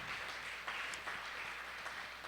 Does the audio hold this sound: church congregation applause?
yes